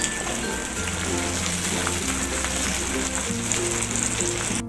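Curry leaves crackle and sizzle loudly in hot oil for sambar, a dense, continuous frying hiss with steady background tones throughout.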